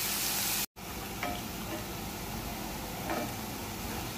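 Chopped onions sauté in a pan for okra masala roast, a steady soft sizzle with faint stirring scrapes, close and fairly quiet throughout.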